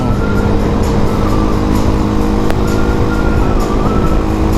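A Suzuki Raider motorcycle with a 230cc engine built up by Bubu Works rides along a road, producing a steady loud engine drone mixed with wind rush from start to finish.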